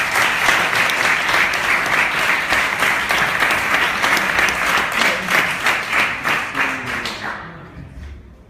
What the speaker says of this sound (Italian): Un applauso a Vincenzo Guerra.